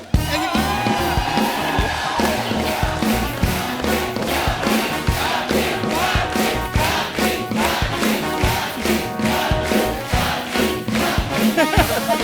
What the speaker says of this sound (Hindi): आप तालियां बजाई जा रहे हो